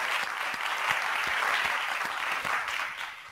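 An audience claps together for a few seconds at a company-community partnerships talk, a dense, steady patter of many hands that holds level and then thins slightly at the end.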